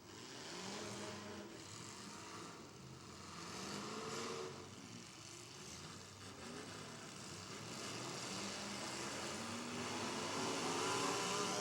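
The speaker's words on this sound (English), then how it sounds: "And Myers is able to refire the 3/8 car." A demolition derby car at a county fair refires and revs, its engine rising and falling under a steady wash of crowd and arena noise, growing louder toward the end, with other running cars nearby.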